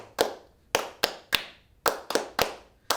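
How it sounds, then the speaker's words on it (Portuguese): Crisp hand claps keeping time for a berimbau in a capoeira lesson, about eight close, dry claps in loose groups with short quiet gaps between. "E a gente acompanha nas palmas"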